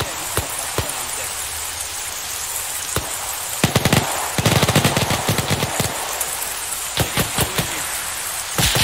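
Arma 3 gunfire: scattered single shots at first, then dense rattling automatic bursts that cluster in the middle and return in short volleys near the end, loud and close over steady background rain-like noise.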